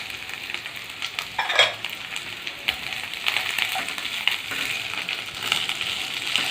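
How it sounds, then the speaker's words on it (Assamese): Onions and capsicum fry in a pan for paneer chilli, giving a steady bright sizzle close by, broken by scraping stirs and a few clinks of a spoon against the pan, with no voices. "কেপচিকাম দিয়াৰ পিছত আমি দিম পিঁয়াজখিনি।"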